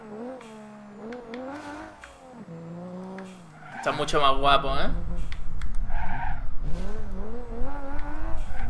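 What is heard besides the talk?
new car engine sound in BeamNG.drive video game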